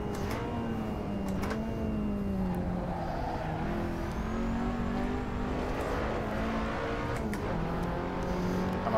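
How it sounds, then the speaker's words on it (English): A KTM X-Bow engine revs hard in the racing game Assetto Corsa without upshifting, its pitch climbing and dropping repeatedly in loud sustained sweeps, with a few sharp clicks over the continuous engine note. "Rev the snot out of it."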